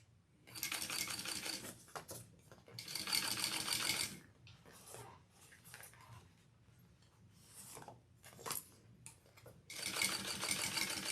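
A sewing machine stitches across the front panel of a handbag, running in several bursts of rapid, steady whirring with short pauses between them, fairly close and clear with no talk.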